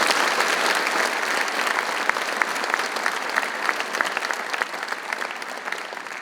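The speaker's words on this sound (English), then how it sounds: "Please give him a round of applause." Steady applause from an audience at a Venice High School military signing day ceremony, even clapping held at a constant level throughout with no talking.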